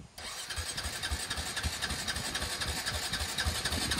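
A quad bike's engine cranks continuously without catching, a steady, rapid mechanical churning with rhythmic low pulses throughout, loud and close with no voices.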